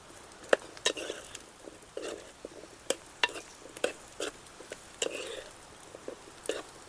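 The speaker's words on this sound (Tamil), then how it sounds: "இப்போ நதன் சேம்பு போட்டுறேன். கட் பண்ணி அதை கட் பண்ணி இந்த சைஸில் இப்போ போட்டலாம்." Cut nadan chembu (colocasia) goes into a frying pan and is stirred, giving a faint sizzle under irregular sharp scrapes and knocks of the spoon against the pan, spaced apart and close by.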